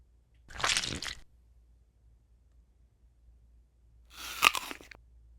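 Two separate crunchy bites of homemade food made with chocolate sprinkles and eggshells, each a close, wet crunching chew lasting under a second, with quiet between them.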